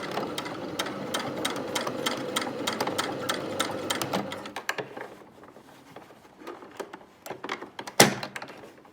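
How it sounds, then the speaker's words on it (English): A sewing machine stitches across the short-end triangle of a bound buttonhole in a fast run of close mechanical clatter that slows and stops about halfway through, followed by a few scattered clicks and a sharp thunk. "I'm going stitch across the triangle on the short end."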